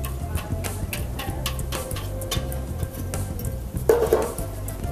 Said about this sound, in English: stir it, right?